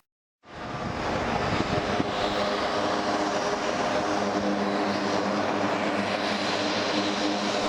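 A Short Tucano T1 display aircraft arrives at Newcastle International Airport ahead of the Sunderland International Airshow. Its propeller engine drone swells in abruptly and then holds loud and steady throughout, with no voices.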